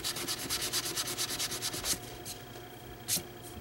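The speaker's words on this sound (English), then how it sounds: "I guess this is dry rubbing, not dry brushing." A paintbrush dry rubbing acrylic paint onto a surface in tole painting, quick rhythmic scratchy strokes close up, steady at first and then a few isolated rubs, with no talking.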